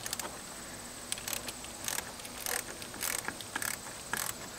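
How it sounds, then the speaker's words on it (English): Nuts on the wire connections of an ultrasonic animal repeller under an RV hood being loosened with a hand tool, a few soft, sparse metallic clicks and ratcheting ticks over a steady quiet background hiss, close but faint. "I'll loosen these nuts and we'll make our wire connections"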